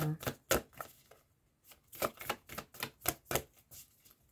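Tarot cards being shuffled and drawn for a general reading, heard as a series of close, papery slaps and riffles in quick uneven bursts, with no voices.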